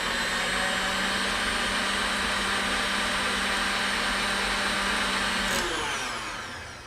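A blender whirs loudly and steadily as it churns keto peanut butter cookie dough until creamy, a constant high motor drone that suddenly shifts and then winds down at the end.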